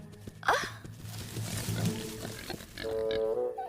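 Cartoon wild boars grunting and snorting in the woods, a few rough close grunts followed by a higher squealing call, with faint background sound.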